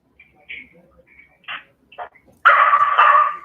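A guard dog gives a few short yips and whimpers, then a loud sustained bark or howl close by, in an indoor setting with people talking nearby.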